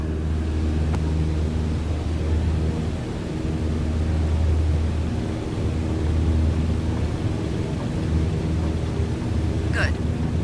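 Simulated Cessna 152 single-engine propeller plane rolling down the runway at takeoff power in Microsoft Flight Simulator, a steady loud droning engine hum that holds throughout, with faint talk low in the mix.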